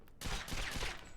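Gunfire from a retro video game played on a Wii, a short burst of rapid shots that cuts in abruptly after a brief quiet moment and rattles on for about a second.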